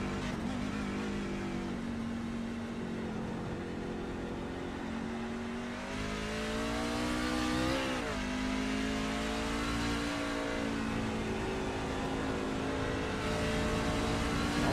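Onboard race truck engine in the iRacing sim at Watkins Glen, droning loud and steady with rising and falling revs through gear changes and corners, no talk.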